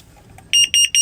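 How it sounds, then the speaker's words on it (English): Carbon monoxide alarm aboard a boat sounding its test: five sharp, loud high-pitched electronic beeps in a quick even rhythm, close by, after a brief quiet lead-in with no talking. "your carbon monoxide alarm can be tested like this"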